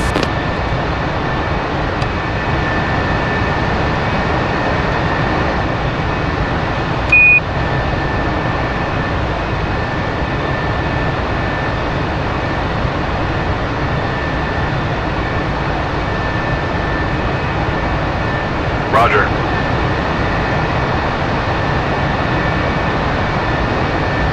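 An F-4 Phantom jet in a flight simulation game sitting ready to taxi, a steady loud engine roar and whine holding even for the whole stretch, with a brief click or two and no voices.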